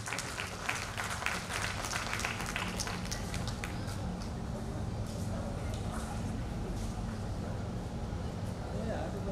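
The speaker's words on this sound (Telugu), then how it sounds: "welcome the sir with big round of applause please" Audience applause welcoming Dr. Edukondala Rao onto the stage at a medical college function in Ongole, steady crowd clapping throughout, with an announcer's voice and chatter running over it.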